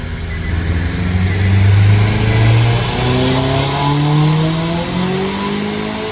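An ethanol-powered Nissan Cube engine roars under load on a dyno, its pitch climbing steadily through the revs in one loud continuous pull.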